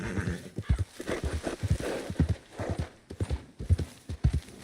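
Horse hooves clip-clop in a steady walking rhythm in the video game Red Dead Redemption 2, close and clear, with a brief whinny-like tone mixed in.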